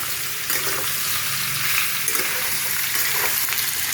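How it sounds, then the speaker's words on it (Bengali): Boiled jackfruit pieces fry in a pan with a loud, dense, continuous sizzle, close and steady throughout, with faint stirring underneath and no talking. "একটু ভাজা ভাজা করে নেব আমি।"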